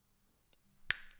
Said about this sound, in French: Un claquement de doigts.